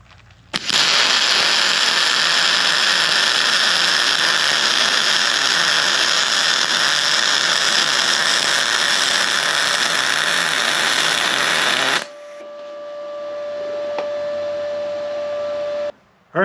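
Simder SD4050PRO MIG welder running a weld pass with a spool gun: a loud, steady crackling hiss that holds for about eleven seconds, then cuts off, leaving a quieter hum and faint tones.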